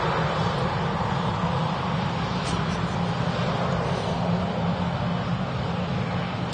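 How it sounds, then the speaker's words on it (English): A Ryanair Boeing 737-800 rolls down the runway at Manchester Airport on a windy day, its engines producing a loud, continuous broadband roar that holds steady throughout. "Rolling on the runway is the Ryanair flight to Nantes, 737-800."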